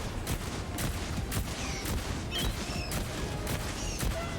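Shots fired at a Bile Titan in the video game Helldivers 2, a fast barrage of loud close gunfire with crashing impacts and whining ricochet tones, dense and unbroken.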